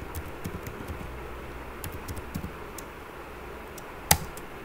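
Keys tapped on a computer keyboard while someone installs and compares Python versions, giving a soft, irregular run of light clicks with one sharper click near the end.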